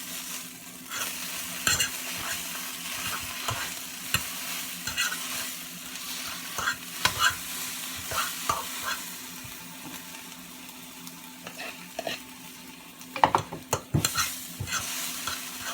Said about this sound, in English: You guys can see eggs are cooking.